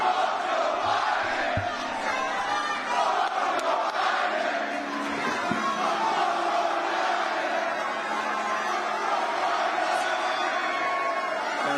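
A large crowd chants a slogan in unison, a dense, steady roar of many voices holding at an even loudness from start to finish, heard as a played-back recording.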